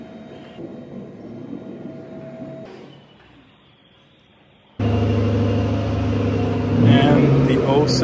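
A supercar pulls away from a collector's garage: quiet room noise, then a sudden loud engine roar bursts in and holds steadily to the end, with people talking underneath.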